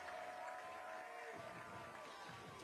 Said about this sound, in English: you can hear the crowd getting behind this defense